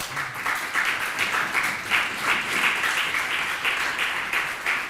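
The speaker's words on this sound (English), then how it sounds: "Warm applause," An audience at a talk in Berlin breaks into warm applause, many hands clapping in a dense, sustained patter that holds steady for several seconds.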